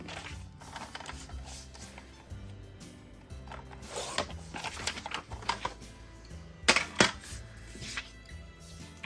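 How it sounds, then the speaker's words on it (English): Paper is trimmed with a paper cutter, giving close clicks, a ratcheting blade action and several sharp slicing snaps, with the loudest cuts near the end. "just cut this with my paper cutter."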